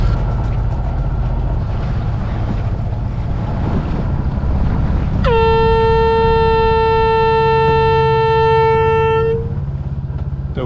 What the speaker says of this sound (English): so I've been sounding the foghorn every 2 minutes